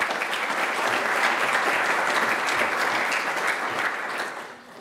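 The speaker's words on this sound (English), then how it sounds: "So if you can do a round of applause for them, it will be really good." An audience at a Python conference talk gives a round of applause, many hands clapping in a dense continuous wash that holds steady and then starts to thin and fade near the end.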